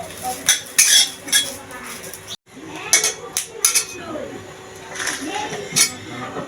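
Utensil clinks and scraping stir garlic and green chillies in a dry pan with no oil, with repeated metallic taps at close range amid faint kitchen background.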